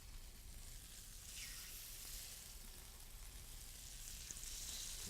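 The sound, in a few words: mustard-coated meat sizzling in a hot pan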